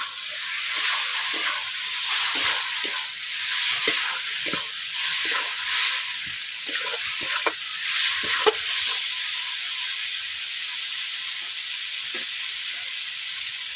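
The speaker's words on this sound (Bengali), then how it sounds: "এইভাবে আমি আলুগুলোকে 5 মিনিট কষিয়ে নিয়েছি" Boiled potatoes stir-frying in spice paste for fish curry, a steady sizzle and hiss with intermittent scraping stirs from a spatula, close and alone without speech.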